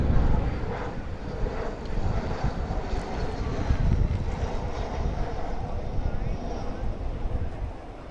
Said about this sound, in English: Let's get one more view of a corporate jet coming into Gabreski Airport.